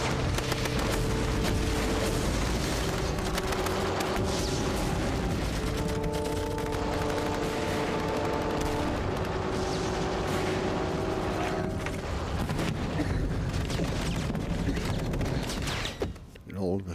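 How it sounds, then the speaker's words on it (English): Gunfire from German forces opening up on passing tanks near Arnhem in the Second World War, with bursts and reports layered over a dense, continuous battle roar and steady drone throughout, with no talk. "The Germans let 8 tanks pass their position before opening fire."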